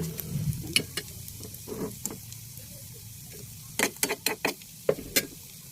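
Stirring in a pan where an eggplant omelette with shrimp and tomato is frying, a soft sizzle under irregular scraping and clacking of a utensil, with a quick burst of sharp taps near the end.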